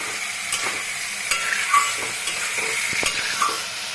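Spice masala for egg curry stirred as it fries in a pan, a steady close sizzle with a few scraping stirs and light spatters throughout, no voices.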